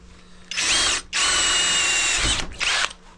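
Power drill boring a hole in a part for a Royal Enfield bobber motorcycle project, loud close whine in three bursts with brief pauses, a fairly blunt bit grinding through the metal.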